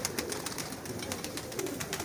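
A loft of fancy pigeons, golden, teddy and kamagar types among them, makes faint, continuous low cooing amid steady hissy background noise, with no talking.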